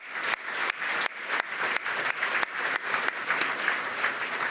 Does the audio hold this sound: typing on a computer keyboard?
no